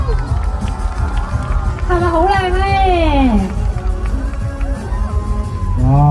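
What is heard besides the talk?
crowd applauding and cheering at birthday cake reveal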